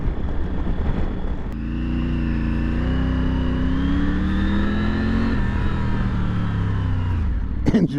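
A 2023 Triumph Tiger 900 GT Low three-cylinder motorcycle engine drones under the rider. Its pitch climbs, holds steady and then drops away near the end, with wind noise throughout.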